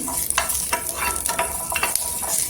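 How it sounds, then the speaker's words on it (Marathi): Garlic dry-roasts in a pan with no oil while being pressed and stirred, close, crackly sizzling with repeated scraping strokes. "इथे पॅनमध्ये तेल नाही टाकायचं आहे बिना तेलाचे आपण भाजून घ्यायचे एकदम कोरडा"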